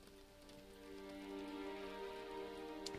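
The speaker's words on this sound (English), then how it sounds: "it's raining" Steady rain patters on a surface in the video game Marvel's Spider-Man, a soft continuous hiss that swells slightly, with a faint tonal hum beneath it.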